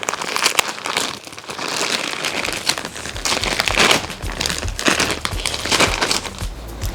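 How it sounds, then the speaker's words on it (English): A plastic bag of fabric grow bags crinkles and crumples as it is handled and pulled open, loud, close and continuous with irregular rustling bursts throughout. "I bought this bag of grow bags from my favorite store. And let's, if I can get in here."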